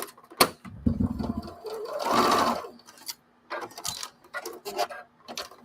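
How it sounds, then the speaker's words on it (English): A sewing machine stitches a piece of scrap fabric in short, stop-start bursts, with one longer run in the middle and some ticking clatter between stitches. "I gotta do that sewing"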